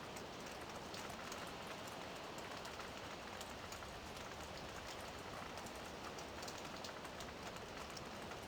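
Steady rain from the video game Farming Simulator 17, set in a Slovak village with seasons, hisses as a dense, even wash across the whole stretch, loud and continuous with no talk over it.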